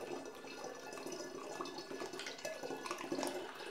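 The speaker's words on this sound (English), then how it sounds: "I'm going to put the third litre of apple juice into the demijohn." Apple juice poured into a glass demijohn for homemade cider, a steady close splashing and gurgling stream of liquid, fairly quiet, with no talk.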